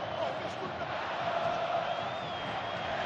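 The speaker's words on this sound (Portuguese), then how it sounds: "A torcida do Flamengo vai à loucura no Engenhão." Flamengo fans roar wildly at Engenhão stadium during a 2011 Brasileirão match against Fluminense, a dense, steady crowd noise filling the whole stretch.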